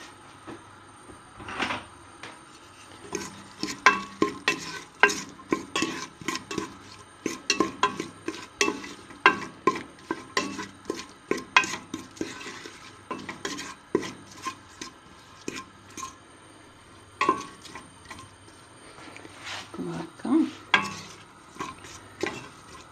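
Food browning in a pan with oil and salt, stirred over and over with a utensil, gives a busy run of close scrapes and knocks against the pan over a low sizzle.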